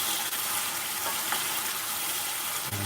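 Jalfrezi curry with added base gravy bubbling and sizzling hard in a pan over medium-high heat, a dense close frying hiss with a brief stir, no voices.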